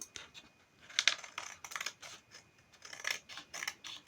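Scissors cutting through material up close, a quick series of crisp snipping clicks and light metallic ticks in an irregular rhythm, fairly quiet.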